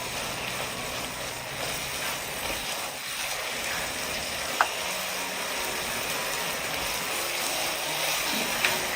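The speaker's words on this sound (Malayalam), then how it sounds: "നെയ്യും കൂടി ചേർത്ത് നന്നായിട്ടൊന്ന് ഇളക്കി യോജിപ്പിച്ചെടുക്കാം." Kashi halwa stirred with ghee in a pan over medium flame gives a continuous low sizzle with soft scraping and clicking from the spoon against the pan, plus a couple of brief sharp taps, without speech.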